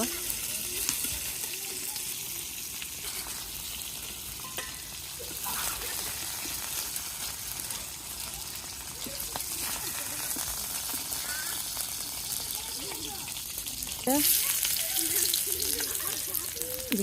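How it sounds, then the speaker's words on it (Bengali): Potatoes frying in a pan, a broad steady hiss of hot oil with occasional stirring scrapes and clinks, moderately quiet and continuous throughout. "এই আলুগুলো একটু প্রথমে ভেজে নেব"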